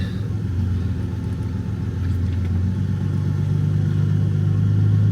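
A Jeep drives off-road at a steep off-camber angle, with a steady low engine rumble and drone that swells slightly toward the end, heard continuously from inside with no talking.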